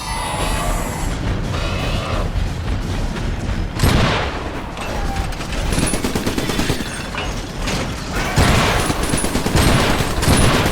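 Gunfire and explosions in the Iron Brigade video game, with loud continuous rattling shots broken by heavy booming blasts, dense and close throughout with no talk.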